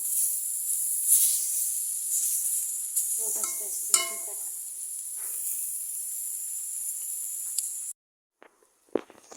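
Loud, steady sizzle of frying in a pan while making jackfruit seed and chepa bharta. A few stirring clatters come through midway, then it cuts off to near silence with faint knocks at the end.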